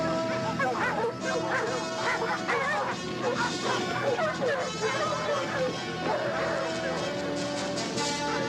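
A pack of dogs barks, yips and whines continuously while chasing a fox across the countryside, loud and close, forming a dense overlapping chorus.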